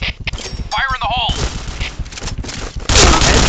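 Rapid gunfire from a shooter video game rings out in dense bursts, loud and close, with a heavier volley near the end, while a voice talks over part of it.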